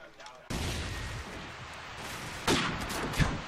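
Gunfire from a pistol duel in a Call of Duty 4 ProMod competitive match, loud sharp reports at the start and again near the end over continuous busy game noise and caster commentary.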